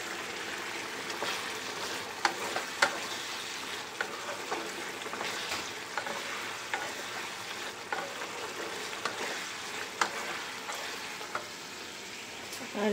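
Okra in mustard sauce sizzling and frying in a pan while it is stirred, a steady close crackle broken by scraping spoon strokes.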